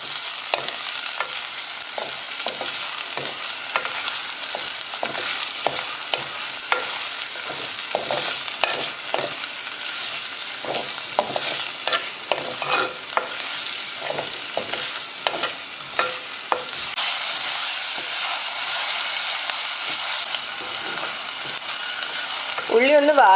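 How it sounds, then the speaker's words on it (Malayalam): Shallots sautéing in a pan for Kerala mutton curry, a continuous close sizzle broken by frequent scraping stirs of a spatula, with a brief louder burst at the end. "നമുക്ക് ആദ്യം ചുവന്നുള്ളി ചെറുതായിട്ടൊന്ന് വഴറ്റാം."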